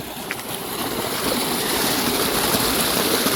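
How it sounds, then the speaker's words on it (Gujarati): Water from two running pump motors rushes steadily into full field channels watering a brinjal crop under hot afternoon sun, a continuous broadband outdoor wash with no pauses and no one speaking. "અત્યારે આપણે બે મોટર ચાલુ છે અને બે મોટરનું પાણી જાય છે"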